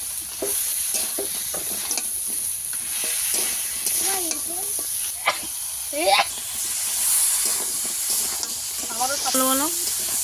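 Sea crab stir-fried with tomato, turmeric and chilli powder in a pan, a continuous close sizzle with scraping stirs, while someone talks over it.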